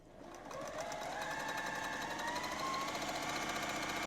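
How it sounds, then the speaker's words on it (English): A sewing machine runs steadily, stitching quilt pieces for a nine patch block with a quarter-inch seam, its motor whirring in a continuous close hum that starts softly and rises to a constant level. "So we're gonna sew these together using a 1/4 inch seam allowance."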